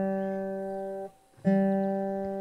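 Guitar being tuned by ear inside a GTA RP game: a sustained plucked chord rings, cuts off briefly, then is struck again and rings on, close and clear with no talking.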